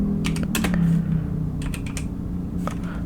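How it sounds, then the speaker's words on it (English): Typing on a computer keyboard, a burst of quick clicking keystrokes in a steady run, close and fairly clear over a constant low hum. "you guys are gonna hear me type again"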